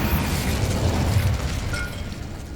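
Incendio fire spell cast in the Hogwarts Legacy video game, a loud sustained whooshing burst with rumbling low body that holds steady and tails off slightly.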